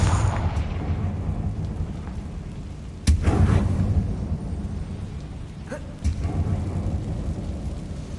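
Casting the Confringo blasting spell in Hogwarts Legacy sets off a sharp blast near the three-second mark, followed by a rumbling tail. A second burst comes around six seconds over a constant low roar.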